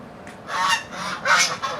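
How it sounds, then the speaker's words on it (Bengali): A male drake duck gives a few close, nasal honks in quick succession, loud and alone with no talking. "এইটা হলো আমাদের মদ্দা হাঁস।"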